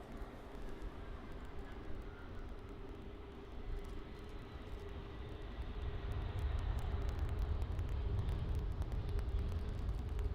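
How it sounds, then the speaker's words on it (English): An Air France Airbus A319 landing at Paris CDG airport makes a distant, steady jet rumble that slowly swells and deepens as it approaches over about ten seconds. "It's an Airbus A319."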